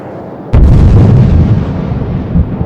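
Bombs bursting in the sky during a rocket attack in Israel, seen from a boat: one sharp, loud blast hits suddenly, followed by a heavy rumbling roar that rolls on and fills the air without fading.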